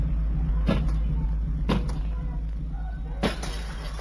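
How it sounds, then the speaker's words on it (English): Concrete paving slab smashing a side window of a family home, three sharp broadband crashes of breaking glass at even intervals, loud and close over a low steady rumble. "The man starts smashing a side window with the concrete."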